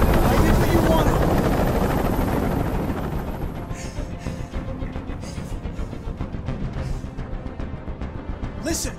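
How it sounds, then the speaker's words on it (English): Rotor wash from a helicopter hovering overhead during a rooftop hostage standoff in Detroit: Become Human, a dense roar that eases slightly and settles into a steady, pulsing chop. "Tell that helicopter to get out of here!"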